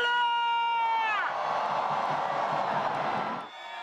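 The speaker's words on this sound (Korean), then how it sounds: "환호가 터져나오고" A crowd of about 100,000 people packs the streets of Gwanghwamun on a cold New Year's Eve and erupts in a loud roar of cheering at midnight. The roar follows a long sustained tonal call and lasts a few seconds before it suddenly drops away.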